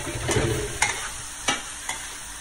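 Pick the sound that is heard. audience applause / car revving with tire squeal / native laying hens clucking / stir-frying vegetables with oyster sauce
stir-frying vegetables with oyster sauce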